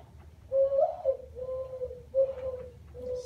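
A person imitates owl hoots with their mouth, producing three or four drawn-out, hollow hooting tones in a low, steady pitch, separated by short pauses, fairly close and clear.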